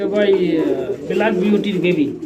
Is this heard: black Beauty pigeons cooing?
yes